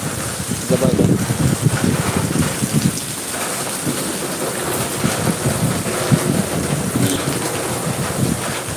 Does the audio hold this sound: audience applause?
no